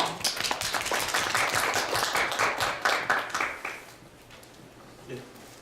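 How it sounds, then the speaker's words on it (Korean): Audience applause at an academic translation symposium, a dense burst of clapping from many hands that fades out after about four seconds, followed by brief quiet room noise. "박수로 환영해 주시죠"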